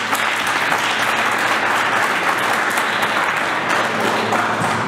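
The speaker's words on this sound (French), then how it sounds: "Je vous demande d'applaudir M." An audience at a talk by Didier Coulomb, director of the International Institute of Refrigeration, breaks into loud, dense, continuous applause that holds steady throughout with no pauses.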